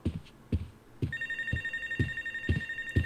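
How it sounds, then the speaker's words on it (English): A telephone rings steadily in the Life is Strange: Wavelengths video game, a bright electronic trill that starts about a second in and keeps going over a repeating low thumping beat. "get get that phone answered"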